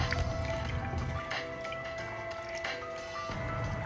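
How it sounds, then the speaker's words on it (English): Water poured through a funnel from a cup into a handheld steam cleaner's tank for auto detailing, a faint continuous trickle and dribble with small drips, close by and quiet. "you're ready to pour your high quality H2O into your steamer"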